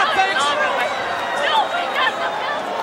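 Wrestling arena crowd in 1992 murmuring and chattering, a broad steady hubbub of many voices with a commentator talking over it.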